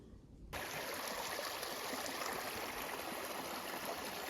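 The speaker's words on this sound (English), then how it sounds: "There's a lot of little rapids, little ripples through here, so it might just be magnifying it." A small forest stream running through little rapids and ripples, a steady close rushing and gurgling of water that starts abruptly after a brief quiet moment and continues evenly.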